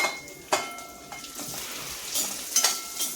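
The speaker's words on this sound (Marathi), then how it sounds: "थोडेसे मी आता काजू आणि बदाम भाजून घेते।" Cashews and almonds roasting in a pan for date and dry-fruit laddoos, with soft sizzling under a few sharp stirring scrapes of a spoon against the pan.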